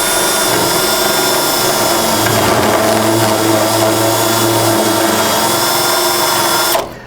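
Power drill fitted with a spot weld cutter biting into sheet metal on a rusty Chevy/GMC truck floor and rocker area, a loud, steady whining grind held for about seven seconds before cutting off abruptly.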